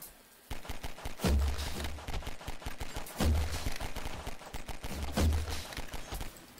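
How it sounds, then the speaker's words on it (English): Pistol gunfire in the video game Garry's Mod rattles as rapid trains of game gunshots, with heavier blasts at regular intervals and no talking. "They're just pistoling each other"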